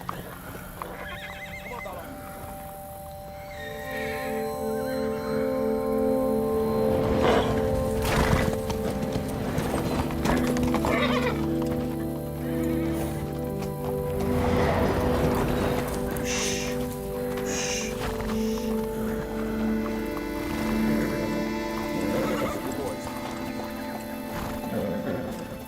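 Horses on screen neigh and whinny loudly while hooves clop around them, with several overlapping calls and snorts in a tense action scene, and a voice shouting briefly among them.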